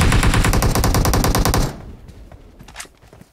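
Loud rapid machine-gun fire in a video game rattles for under two seconds, then cuts off, leaving quieter distant pops and shots trailing away.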